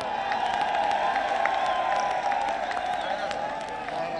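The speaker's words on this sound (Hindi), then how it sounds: "इनको तालियां बजा के इनका खैर मकदम करो" Crowd at an election rally clapping and cheering to welcome a guest, a dense continuous roar of applause with whoops and shouts mixed in, loud and sustained throughout.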